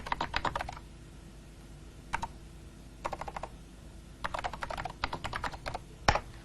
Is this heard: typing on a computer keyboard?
yes